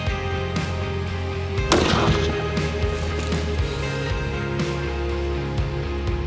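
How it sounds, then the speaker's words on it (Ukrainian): One loud rifle shot bangs out while zeroing a rifle scope, its echo rolling away over a constant low background rumble. "Роблю постріл."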